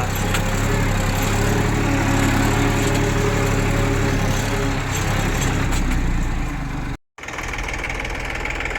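A tractor engine idles and chugs steadily close by during field work, a loud continuous low throb with a knocking rhythm and a brief dropout near the end.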